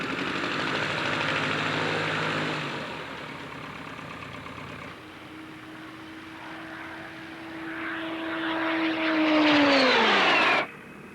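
An SE-5A replica biplane flies at the Warbirds Over Wanaka airshow in New Zealand, its propeller engine droning steadily and swelling louder as it passes close, then cutting off abruptly.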